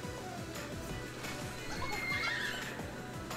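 A horse neighing in the video game Miitopia, a whinny over steady clip-clop hoofbeats, with a faint background bed of game sound.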